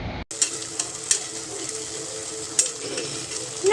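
Ingredients for mutton biryani sauté in a pan, a steady close sizzle and frying hiss broken by small clinks of a stirring spoon.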